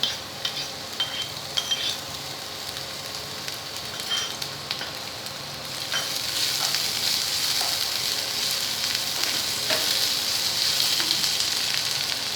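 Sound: ginger-garlic paste frying with potatoes and pointed gourd

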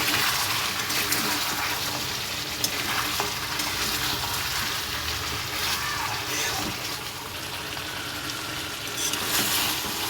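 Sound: meat being fried and stirred in a pan

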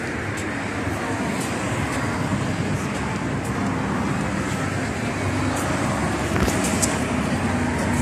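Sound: traffic on a highway

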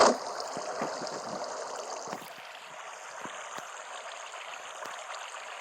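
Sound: water flowing in a video game

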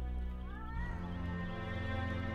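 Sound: cat meowing in video game Erie

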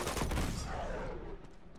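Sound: gunfire from enemy in video game Uncharted 2

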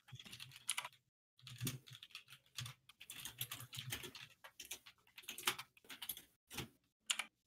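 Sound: typing on loud mechanical computer keyboards

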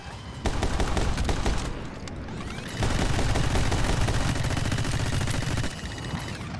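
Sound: gunfire in video game My Friend Pedro

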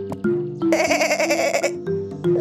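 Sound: goat bleating in children's story

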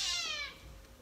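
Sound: angry cat meowing during rectal temperature taking

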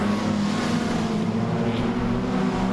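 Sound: race cars driving in formation at Archerfield

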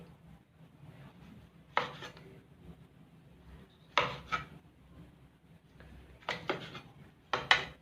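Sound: slicing pork with a knife

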